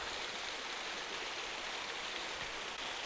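Twin waterfalls near Brotherswater in the Lake District give a steady, full rush of falling water, even and unbroken, with no voices.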